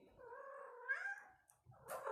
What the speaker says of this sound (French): Oh non, il y a mon chat.